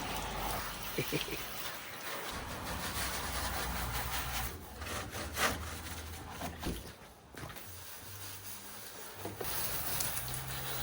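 A car is scrubbed by hand at close range, with a continuous wet, rough rubbing and swishing that rises and falls, briefly pausing before resuming.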